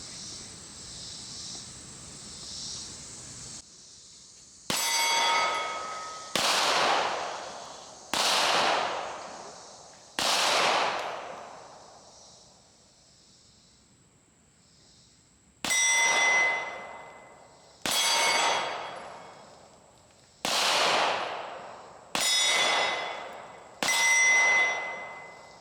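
A Sig AXG Pro pistol fires shot after shot at steel targets, each sharp crack followed by a long metallic ring. There are nine evenly spaced shots in two strings separated by a quiet pause, heard from a middle distance.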